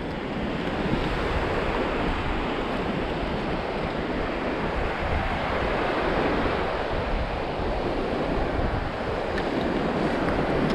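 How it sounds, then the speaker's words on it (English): Surf washing onto a barrier island beach in South Carolina, a steady, close roar of breaking waves with wind buffeting the microphone throughout, no voices. "right on this barrier island beach in South Carolina"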